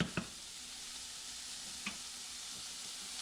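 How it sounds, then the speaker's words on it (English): Vegetables and broth stirred with a wooden ladle on a range burner, a steady sizzle and hiss with a few soft knocks of the ladle against the pot, faint and close. "I'll stir up the vegetables and broth with a wooden ladle"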